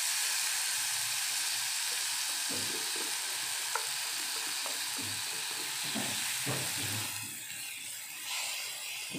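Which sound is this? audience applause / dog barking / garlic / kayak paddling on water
garlic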